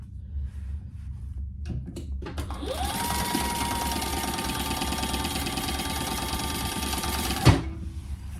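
A sewing machine runs steadily for several seconds stitching a 1/8 inch basting seam on a handbag, a loud continuous whir with a clunk as it stops near the end.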